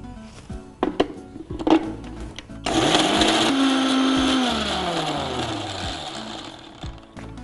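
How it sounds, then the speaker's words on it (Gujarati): A kitchen blender grinds fresh basil and green tea leaves, starting after a few clicks and knocks with a loud whirring roar that climbs in pitch, holds steady for several seconds, then stops. "આ બધું પીસી લઈશું."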